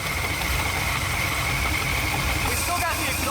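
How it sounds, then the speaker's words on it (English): A supercharged Corvette engine with an exhaust leak runs at a steady idle, giving a constant rumbling drone with a faint ticking hiss, loud and close, and a voice speaks over it near the end. "still got the exhaust leak"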